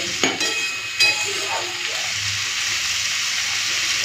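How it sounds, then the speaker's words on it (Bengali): Steady crackling sizzle of potatoes frying in hot oil over high flame, close and continuous, with a couple of brief stirring knocks near the start. "একটুখানি হাই ফ্লেম করে ভেজে নেবো"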